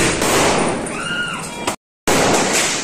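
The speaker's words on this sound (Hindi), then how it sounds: "पटाखे तो इतने फट रहे हैं" Diwali firecrackers burst continuously in the distance, a dense crackling roar of pops filling the air, briefly cut to silence before the loud crackle resumes.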